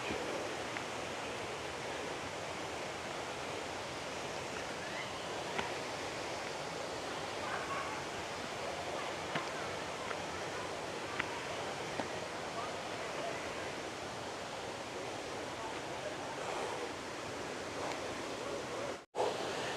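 Rushing water of Khlong Nam Lai waterfall in Kamphaeng Phet pours in a steady, loud, broadband roar that holds evenly throughout, with only faint handling bumps.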